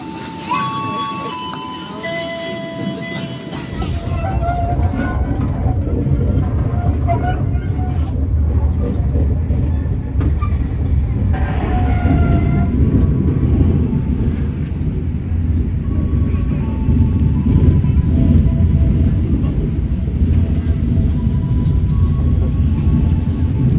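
The KA Sri Tanjung train, pulled by two locomotives on the Banyuwangi route, arrives at Lempuyangan station with a steady loud rumble that swells after a few seconds, while a recorded announcement and voices are heard over it.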